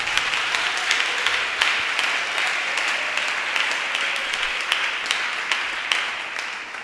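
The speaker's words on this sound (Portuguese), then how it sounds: "Dá uma salva de palmas para Jesus." Sustained, dense applause from a church congregation fills the room after a sermon, steady clapping of many hands throughout with a few sharper bursts standing out.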